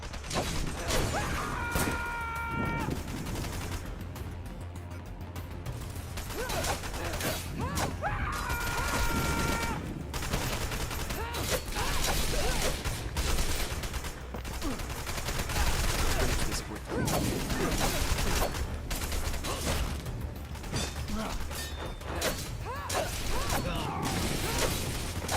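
Gunfire in the PC game Wanted: Dead, rapid and dense bursts of shots packed together for the whole stretch alongside mechanical clatter, with some talk mixed in.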